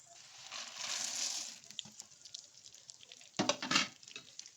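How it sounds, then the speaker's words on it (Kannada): Almonds, pumpkin seeds and sunflower seeds fry and sizzle in a pan for sugar-free dry fruit laddu, with a hiss followed by stirring scrapes and a louder burst near the end. "ಈ ಥರ ನೀಟಾಗಿ ಫ್ರೈ ಮಾಡ್ಕೋಬೇಕು."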